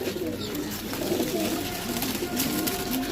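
Pigeons at a pigeon sale coo steadily and softly throughout, with low throaty calls layered over a constant background murmur.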